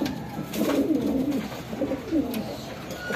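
Racing pigeon arriving at the loft after a 274 km derby race lap, soft repeated cooing near by with a faint murmur of outdoor background.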